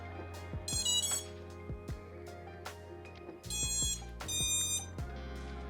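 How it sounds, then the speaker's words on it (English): The motors of a freshly built 5-inch freestyle FPV drone beep on power-up, giving a few short bursts of high electronic tones in stepped patterns with pauses between them, close and clear. "That sound that you're hearing is the motors, surprisingly enough."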